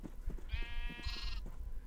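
Sheep in a crafting video game give two short back-to-back bleats, the second higher and brighter, over a faint low background rumble.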